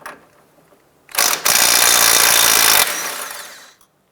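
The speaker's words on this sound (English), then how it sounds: "Using an 18mm socket, we're going to go ahead and remove the tie rod end nut." Power tool spinning an 18mm socket to remove a tie rod end nut on a 2001-2007 Ford Escape, a short burst then a loud sustained whir of about a second and a half, close up, fading out.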